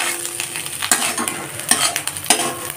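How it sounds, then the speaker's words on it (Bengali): Small shrimp fry in a pan, a bright sizzle running under sharp metallic clinks and scrapes of a spoon stirring against the pan at close range. "কুঁচো চিংড়িটা ভাজা হয়ে গেছে"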